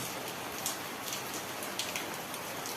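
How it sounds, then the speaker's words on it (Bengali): Heavy rain pours steadily during a storm in rural Bangladesh beside a poultry farm, a dense, even hiss of drops on surfaces with a few louder splatters and no voices. "প্রচুর পরিমাণে বৃষ্টি হচ্ছে।"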